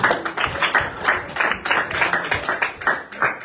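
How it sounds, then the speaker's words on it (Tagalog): A church congregation claps together in a steady, even burst of applause filling the room, with no speech over it. "Sa pong malakas sa palakpak sa ating Diyos."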